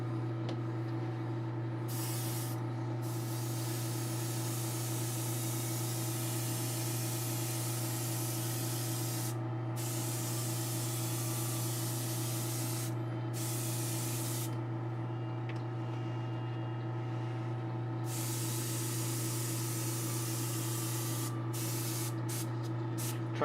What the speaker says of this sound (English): see how I could do it with this airbrush first.